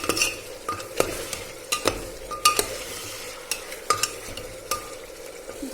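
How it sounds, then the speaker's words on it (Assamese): Spoon stirring mutton curry in an open pot, a run of distinct clinks and scrapes spaced unevenly over a soft steady sizzle, close and fairly quiet, with no talking. "এতিয়া ঢাকনখন এৰাই এনেকৈ মই লৰাই দিছোঁ অলপ"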